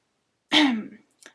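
A single short, close throat-clearing cough, followed by a faint brief breathy sound.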